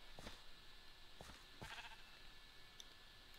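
Sheep in the game Minecraft bleat several times in short, separate calls, moderately close over a quiet ambient game background with no talking.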